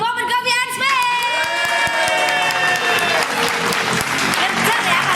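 Crowd at a coffee shop event in Semarang applauds and cheers loudly for the shop's owner, with a voice speaking over the start before clapping swells into continuous applause with whoops and shouts.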